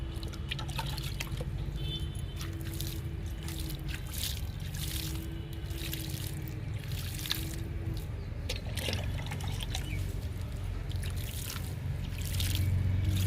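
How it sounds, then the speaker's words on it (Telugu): Water is poured into six tubs of freshly sown okra seeds, making a steady stream of trickling and splashing that runs under a constant low background hum and grows slightly stronger near the end. "ఇప్పుడు ఈ 6 టబ్బులకి వాటర్ ఇచ్చేద్దాము."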